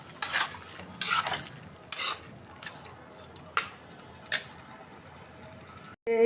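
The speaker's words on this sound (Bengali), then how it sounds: "এখন পেঁপে আর ডালটা ভালোভাবে কষাই দেবো মশলার সাথে" Papaya and dal are stir-fried with spices in a pan, the spatula scraping in a few distinct strokes over a faint, quiet sizzle.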